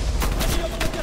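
Gunfire in Call of Duty: Black Ops Cold War, a dense, steady wash of shots crackling through a busy firefight over a short stretch, loud and continuous with no distinct single report standing out.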